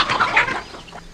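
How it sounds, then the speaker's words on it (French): Hens cluck and squawk in a wheeled cage in a rural farm scene, a busy, close burst of several birds calling over one another with a faint rustle beneath. "Pour combattre une maladie des poules, il les enferma dans une cage à roulettes."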